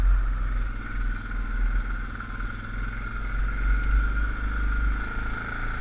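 A four-wheel drive ATV crawls over a rocky trail, its engine holding a steady low rumble with faint clatter from the machine rolling across the rocks.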